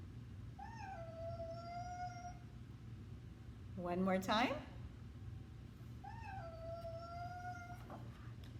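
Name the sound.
cat meowing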